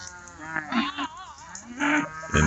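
Cattle low repeatedly near a farm barn, several drawn-out moos overlapping one another, close and fairly loud, with a louder call closing the stretch.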